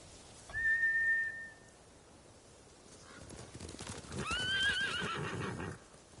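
In the video game Ghost of Tsushima, a horse whinnies sharply near the start, then a rumble of hoofbeats and another neigh build up mid-clip before fading out.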